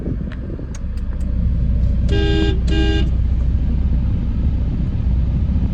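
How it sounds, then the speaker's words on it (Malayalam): Two short car horn honks, close and fairly loud, over a steady low engine and traffic rumble. "ആരെങ്കിലും ഒന്ന് ഹോൺ അടിച്ചു നോക്കി"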